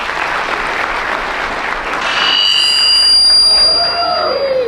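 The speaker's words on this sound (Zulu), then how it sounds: "Ngicela simshayele likhulu ihlobo." An audience at a Nazareth Baptist Church (Shembe) birthday celebration in Durban bursts into sustained, loud applause that swells and holds steady, with a few whistles and high-pitched cheers cutting through near the end.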